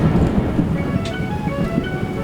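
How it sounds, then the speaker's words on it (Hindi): Steady heavy rain with deep thunder rumbling underneath at the start of a downpour in a tribal village in Arunachal Pradesh, a dense continuous wash of noise throughout with no voices. "शुरू होता है बारिश"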